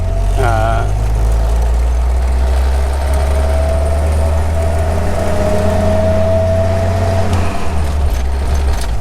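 A 1951 Willys Jeepster's engine rumbles low and steady as the vehicle pulls away in second gear, with a faint rising whine over the constant drone, close and fairly loud.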